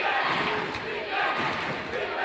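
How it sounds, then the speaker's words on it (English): A large indoor crowd at a girls' high school basketball game roars loudly, the cheering swelling and ebbing in waves. "Crowd gets loud."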